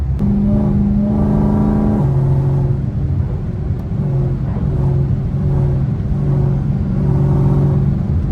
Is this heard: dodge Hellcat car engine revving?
yes